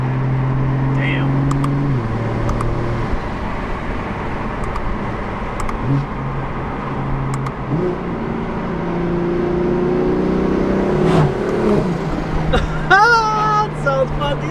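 A single-turbo BMW F82 M4 engine idles and revs up in rising bursts, with a whooshing turbo whine near the end, while people talk over it close by.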